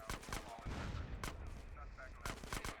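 Gunfire bursts from Grand Theft Auto: San Andreas, with sharp repeated shots and heavy blasts, plausibly grenade explosions, clustered near the start, middle and end, under faint talk.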